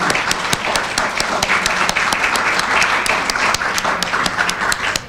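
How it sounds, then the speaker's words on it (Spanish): Sustained applause from an audience at an arts and education conference in Argentina, dense steady clapping filling the room with a few sharper individual claps standing out. "¿quieren aplaudirlas primero?"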